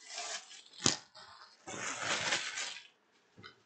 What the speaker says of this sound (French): Désolé pour tous ces bruits de papier, j'espère que c'est pas trop dérangeant.